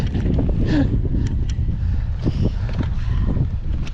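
Strong wind on the exposed ledge of Little Bald Pate mountain in Maine, a heavy steady roar buffeting the microphone close up, with gusty rumbling throughout and no talk.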